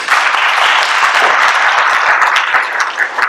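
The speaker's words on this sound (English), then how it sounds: "So can we give these ladies a big round of applause?" Audience at a school board meeting gives a loud, dense round of applause, a continuous wash of many hands clapping close by, lasting throughout.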